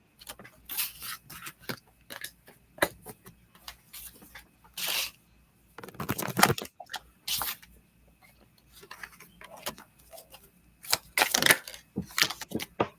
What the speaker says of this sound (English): let me shuffle some cards.